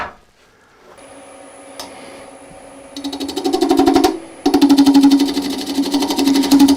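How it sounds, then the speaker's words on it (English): A wood lathe spins a yarn bowl while a small bowl gouge takes light cuts, a low motor hum giving way to loud, rapid rhythmic chattering in two bursts separated by a brief pause. "Again, use a small bowl gouge."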